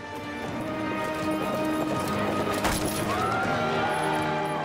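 Horse hooves clatter at a medieval lance tournament, a busy run of clip-clop strikes with jangling metal, moderately loud amid crowd noise and a brief sharp crack partway through.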